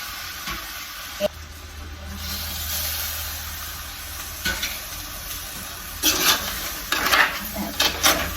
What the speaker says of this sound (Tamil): ரெண்டாம் பாலை வந்து இப்போ பிரட்டி விட போகிறேன்